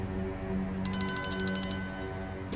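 A telephone's electronic ringtone breaks in partway through, a bright pulsing trill over a low hum of background tones, with no speech.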